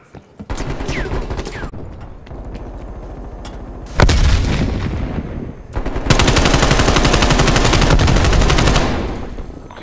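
Call of Duty Black Ops Cold War match with a frag grenade blast and sustained automatic gunfire, a loud boom near the middle followed by long dense bursts of shooting, close and loud.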